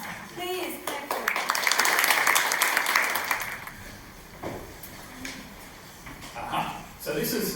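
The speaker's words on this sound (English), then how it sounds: "Please clap for" An audience applauds a speaker at an environmental sociology symposium. A burst of clapping rises and fades over a few seconds, with talk before and after it.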